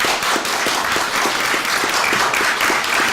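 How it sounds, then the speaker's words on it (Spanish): An audience bursts into sustained applause at a Spanish-language talk, with dense clapping and a few sharper claps poking through, holding steady and fairly loud for the full length without any voice above it. "he dicho algo que ha traído aplausos"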